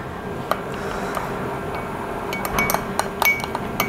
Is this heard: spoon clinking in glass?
yes